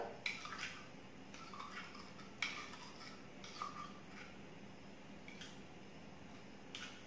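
Garden soil being stirred into water in a container, giving faint, intermittent swishing and clinking strokes that repeat every second or so over a quiet room background.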